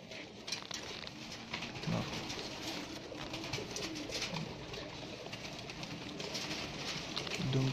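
Golden pigeons coo in a loft in Multan, a soft steady murmur of cooing from several birds with light pattering and faint clatter throughout, moderately quiet.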